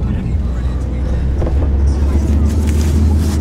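Steady low engine rumble and road noise from inside a moving car, continuous and fairly loud, with occasional faint voices and movement.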